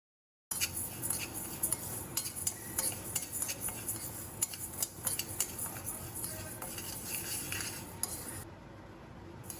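White and black urad dal dry-roasting in a pan, a continuous gritty rustle of grains with frequent metal spoon scrapes and clinks against the pan, close and steady, with no talking.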